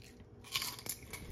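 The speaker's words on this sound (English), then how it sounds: "I forgot to taste my little crispy salmon skin." Crispy fried salmon skin gets bitten and crunched up close, a couple of sharp crackling bites in quick succession with no voice.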